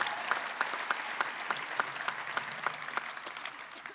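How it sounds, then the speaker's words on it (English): Applause for a university band, spirit squad and mascot at a men's basketball coach's introductory press conference, with steady clapping from a modest room crowd, fairly quiet and a little distant, some individual claps standing out. "Big round of applause for those guys."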